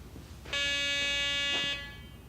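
Garrett PD6500i walk-through metal detector sounding its alarm as two test targets pass through, a single loud steady electronic tone with bright harmonics lasting about one second, standing alone against a quiet room.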